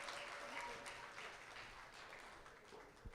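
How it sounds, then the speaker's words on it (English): After a keynote by Dr. Sydney Shea, a conference crowd keeps up a fairly soft, continuous patter of clapping. Individual claps stand out here and there, and the level eases slightly as it goes on. "Another second round of applause to Dr. Sydney Shea"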